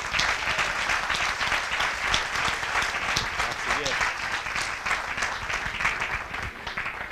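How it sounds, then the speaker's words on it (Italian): A crowd applauds at a Five Star Movement political gathering in Siena, loud continuous clapping that fills the room while voices talk and call out underneath. "Un applauso, per favore."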